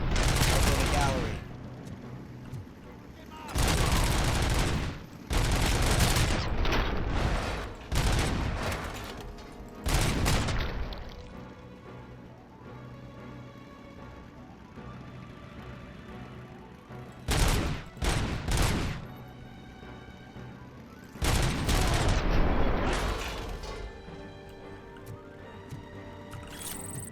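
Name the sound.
gunfire shooting in the video game RoboCop Rogue City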